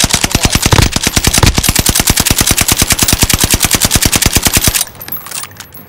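Sustained automatic gunfire from Call of Duty: Modern Warfare: a loud, rapid, evenly spaced stream of shots lasting almost five seconds, then an abrupt stop into quieter game ambience.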